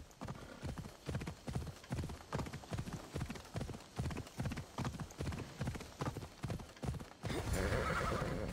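A horse in Assassin's Creed Odyssey clip-clops in a steady, rhythmic trot for several seconds, then breaks into a loud whinny at the end.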